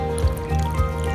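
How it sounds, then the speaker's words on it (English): Water is poured into a self-heating Sichuan spicy hotpot, giving a brief, close trickle and splash that comes in two small surges over a steady low hum, with no talk. "Let's add some water. Add it till this line."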